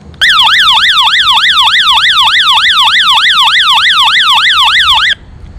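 A loud warbling electronic SOS alarm siren from a hand-crank backpacking weather radio, rapidly sweeping up and down in pitch for about five seconds before stopping abruptly.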